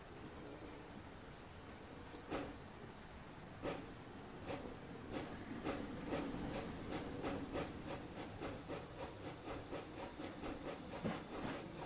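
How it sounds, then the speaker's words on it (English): A 2-6-0 Mogul steam locomotive in a train simulator game moves off over a steady hissing steam bed, with sharp chuffs that start out sparse and then quicken into a rapid even rhythm. "It takes a bit of steam to get it to move, and then once you get it moving, she's quite easy going."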